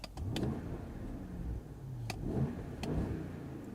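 A 2023 Range Rover P530 with a twin-turbo 4.4-litre BMW V8 revs several times against its soft limiter. It is heard close up as steady engine rumble with short rising blips, and there is no talk.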